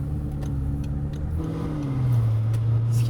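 An Audi R8 V8 engine rumbles low and steady at idle, its deep tone dipping slightly then settling into a heavier drone.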